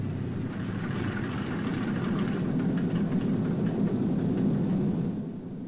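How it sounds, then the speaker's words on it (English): A new radial engine on a 1944 Boeing B-29 Superfortress runs at a steady idle, a loud, continuous low rumble that holds evenly for several seconds before easing off slightly, with no voices. "That's a new engine they just put in there."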